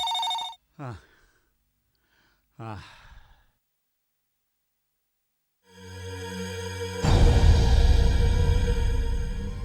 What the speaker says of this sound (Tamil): போன் அடிக்கிறது எல்லாரும் எங்க போயிட்டா